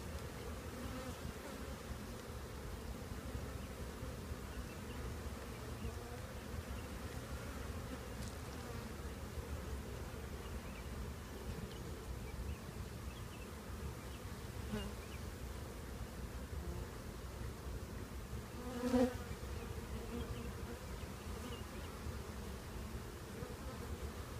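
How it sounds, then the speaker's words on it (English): Bees hum steadily and continuously during a trap-out from a radio tower, a close, dense buzzing drone that stays even throughout, with one brief louder buzz passing near the end. "bees are still coming out of the cone."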